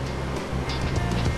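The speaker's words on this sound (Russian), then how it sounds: "наверное, догадались, что мы находимся рядом с водопадом" Rushing water of the Probiy waterfall on the river at Yaremche, a steady, dense roar that holds at the same level throughout with no voices.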